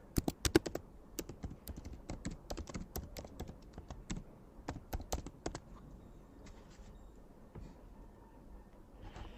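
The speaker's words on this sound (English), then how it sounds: "I'm going to click on T on my keyboard, and I'm going to start typing" Rapid clicking of keys on a computer keyboard, bursts of typing with brief pauses, fading to sparser taps near the end.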